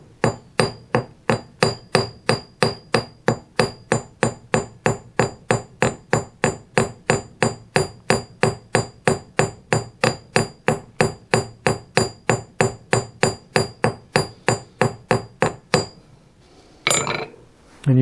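A forging hammer strikes hot metal with its cross peen side, widening the stock on an anvil. Dozens of loud, close, evenly spaced ringing blows land in a steady rhythm, then pause briefly near the end.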